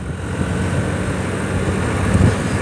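A Honda Activa 100cc scooter ridden at a gentle pace on a road near a dam, its low engine drone and wind rush steady and close throughout, with no talk.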